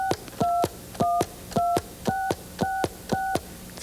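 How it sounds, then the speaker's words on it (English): Telephone keypad buttons sound a string of seven short, evenly spaced two-tone beeps while dialing a number, clear and close with no one speaking. "Now would you dial a special telephone number for me?"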